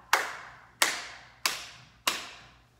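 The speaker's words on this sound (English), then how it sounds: "and then we're gonna clap." Four single hand claps ring out at an even, unhurried beat during a children's pre-ballet class, each a sharp, close, bright smack that dies away before the next.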